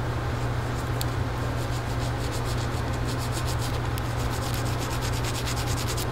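TMA orthodontic wire dragged under a microscope, giving a continuous harsh scraping rub that stays even and close throughout, with no voices.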